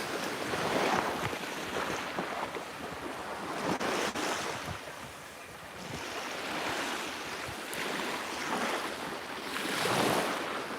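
Surf washing onto a warm tropical beach on the island of Ko Phayam, Thailand, a steady roar of breaking waves swelling and easing in slow surges, with wind buffeting the microphone and no voices.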